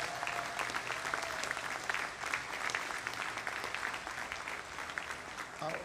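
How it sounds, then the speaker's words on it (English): Audience applause at a NASA lunar challenge awards ceremony on a college campus, a sustained, even wash of many hands clapping, moderately distant and steady throughout. "Please give them a warm round of applause."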